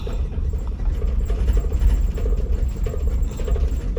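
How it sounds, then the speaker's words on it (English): Deep, continuous low rumble of a Disney cruise ship's engines felt at the back of the boat, a steady droning vibration with slight throbbing, loud and close throughout with no voices. "with the way the back of the boat is shaking"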